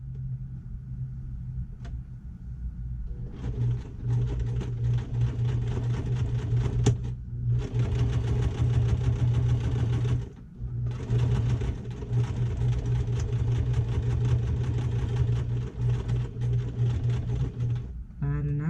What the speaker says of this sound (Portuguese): Costura, faço retrocesso.